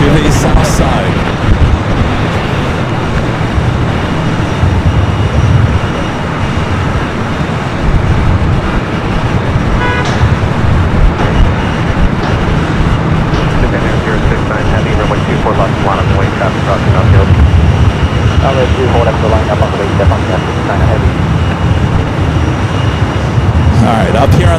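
A Lufthansa Airbus A380 moves across LAX, its engines a loud continuous roar mixed with broadband airport rumble, with voices talking over it throughout.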